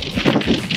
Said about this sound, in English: this is insanely windy